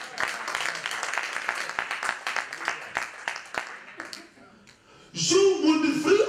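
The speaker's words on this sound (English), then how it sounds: "so clap for Jesus" Church congregation clapping in a lively, rhythmic patter for several seconds, thinning out toward the middle, then a voice speaks loudly over a reverberant room.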